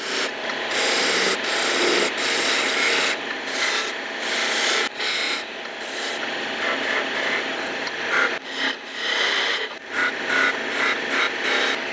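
A woodturning tool cuts into a spinning twig blank for a Coke-bottle-shaped vase, making a loud, continuous rasping scrape that pulses slightly as the cut moves, with no voices.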